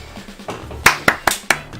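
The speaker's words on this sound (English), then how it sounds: "I probably shouldn't clap every time that happens." Hand clapping during a Castlevania: Dracula X playthrough, four or five sharp claps in quick succession, close and loud over a faint game soundtrack.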